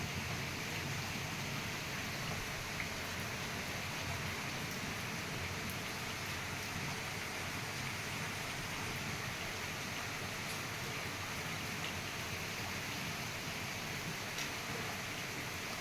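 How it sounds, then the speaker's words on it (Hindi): Steady rain falling in sunshine during a sudden summer shower, a soft, even hiss of drops that carries on unbroken throughout, with no talking. "अचानक ही धूप थी और बारिश शुरू हो गई धूप में"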